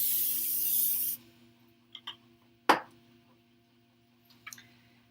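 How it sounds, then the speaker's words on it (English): Cooking spray hisses onto a casserole pan in one loud, close burst of about a second, followed by quiet taps and a few light clinks of the can and pan. "We gotta spray some cooking spray on there so it doesn't stick."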